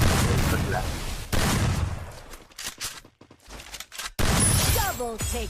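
Gunshots fire in a one-versus-two match of a video game, loud bursts breaking over steady talk, with a brief quieter gap midway before another sharp blast and more chatter.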